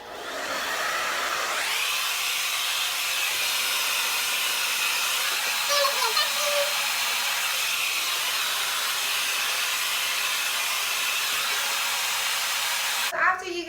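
A hair dryer blows hair dry with a round brush, a steady close rush of air that holds almost unbroken from start to end, with a brief shift and a small clatter as the brush moves near the finish.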